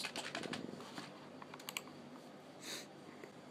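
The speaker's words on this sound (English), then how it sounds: "let me type in" Fingers type on a computer keyboard, a quick close run of clicking keystrokes followed by a few scattered taps and a louder key press near the end.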